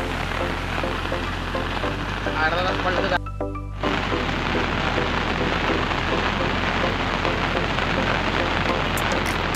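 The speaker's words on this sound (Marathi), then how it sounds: "प्रचंड पाऊस आहे रे" Heavy monsoon rain in Konkan pours down in a constant dense roar, briefly cut off for a moment before resuming; voices can be heard faintly beneath the downpour.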